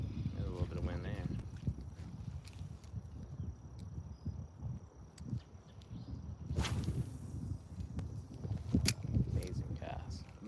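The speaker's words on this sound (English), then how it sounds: "There's a little bit of wind there." Wind blowing outdoors on a boat during bass fishing, a steady rumbling buffet across the microphone with a few sharper gusts and small knocks, fairly loud throughout.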